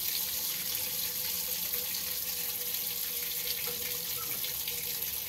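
Water runs steadily through a pipe, a continuous hissing rush with no breaks, moderately faint and alone without talk.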